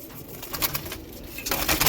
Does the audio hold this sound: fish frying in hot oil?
no